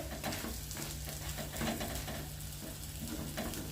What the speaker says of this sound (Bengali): এখন রসবড়াগুলো ভাজা চলছে